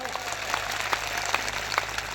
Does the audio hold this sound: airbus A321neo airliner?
no